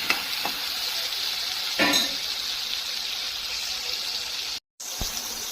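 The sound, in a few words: stirring tomato garlic sauce with salt in pan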